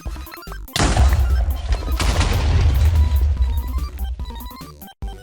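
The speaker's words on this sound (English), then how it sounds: "Here, a huge explosion simply releases a lot of water." A Minecraft TNT dynamite block detonates in one loud, booming blast that rumbles on for several seconds before cutting off sharply.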